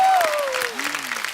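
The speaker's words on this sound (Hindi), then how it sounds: "तो एक बार जोरदार तालियां नीतू जी के लिए और रिद्धिमा के लिए" Studio audience applause on a TV comedy talk show, broad clapping beneath a falling, gliding tonal musical sound, with speech-like activity mixed in over the short burst.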